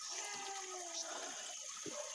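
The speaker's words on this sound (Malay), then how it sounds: "inilah dia anak sungai yang mengalir" A small river stream flows at Ulu Tamu, Batang Kali, Selangor, a faint, steady watery rush with soft trickling and a few brief splashes.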